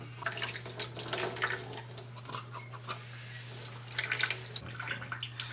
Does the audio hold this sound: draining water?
yes